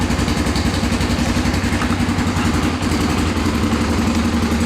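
A cold 1996 Honda XR250L single-cylinder engine idles with its choke on half, giving a loud, close, steady, lumpy thumping that runs alone with no one talking.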